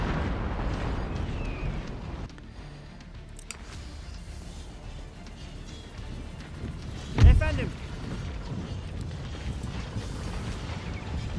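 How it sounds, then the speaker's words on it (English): Organ guns fire in an Empire Total War battle, a rumbling volley with one sharp burst standing out midway over a steady din of battlefield noise. "There goes the organ guns."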